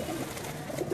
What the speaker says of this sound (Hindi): रामपुरी कबूतर हैं